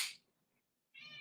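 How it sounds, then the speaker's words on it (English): A house cat meows twice, a loud meow at the start and another after a short silent gap, both close and clear with no talk over them. "that cat meowing like crazy"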